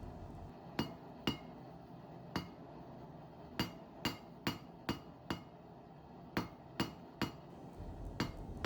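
A bronze brooch piece struck by a hammer during forging cleanup: about a dozen sharp, ringing metallic taps in irregular bursts, fairly close, with no talking.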